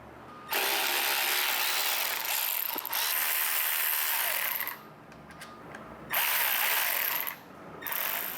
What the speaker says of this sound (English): we're going to go ahead and remove the bolts out of the master cylinder and the reservoir